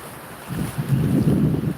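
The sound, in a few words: small waves breaking on a calm beach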